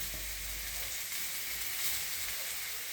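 Grated raw potato dropped into hot cumin seeds sizzles and fries steadily in a pan over low heat, a dense continuous crackle with no voices.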